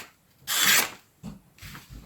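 A knife freshly sharpened on a WorkSharp Precision Adjust system slices through material in one rasping stroke, followed by a few softer, short thudding cuts close by.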